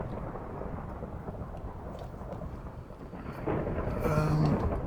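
Thunderstorm in the Minecraft video game on a Feed The Beast server: a steady low rumble of rain and thunder fills the clip, swelling louder near the end, with no voices over it.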